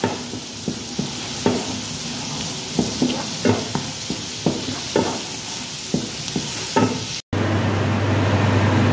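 Food frying and browning in a pan while being stirred, with steady sizzle and repeated close scraping stirs at an uneven rhythm, a brief gap, then louder continuous frying toward the end.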